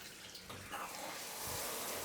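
Hotel shower running in an older five-star hotel room: a steady broadband hiss of spraying water that grows slightly louder partway through, with no talking.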